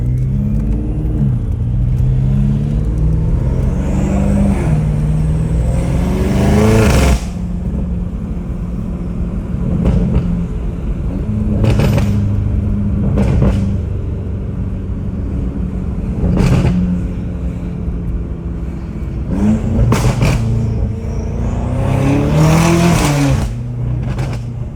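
BMW M5 Competition engine revving hard as the car accelerates, with loud, close rising pulls broken by sharp shift cracks several times and no talk over it.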